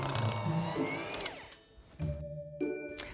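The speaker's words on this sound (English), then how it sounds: "All I'm going to do is beat it together with an electric whisk." An electric whisk beats chocolate cupcake batter made with eggs, cocoa and vanilla, giving a quiet, motorized whir that rises and falls in pitch as the beaters move through the bowl.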